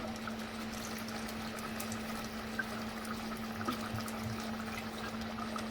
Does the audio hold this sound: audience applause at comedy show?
no